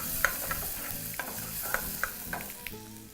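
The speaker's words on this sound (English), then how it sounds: "I'm using a wooden spoon fry those for anywhere between a minute to 2." Garlic and ginger fry in a pan, sizzling softly while a wooden spoon stirs, tapping the pan in irregular light knocks.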